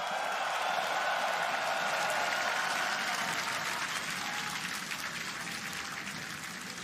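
Arena crowd in Rotterdam at a League of Legends esports match roars with sustained cheering and applause, a dense continuous wash that stays loud throughout and eases slightly toward the end.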